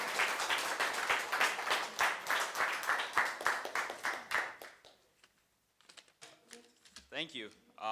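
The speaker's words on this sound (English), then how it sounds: "Ladies and gentlemen, let's give a warm round of applause." Audience at a high school poetry awards event claps in a brisk, fairly close burst of applause that fades out after about five seconds, followed by someone speaking alone.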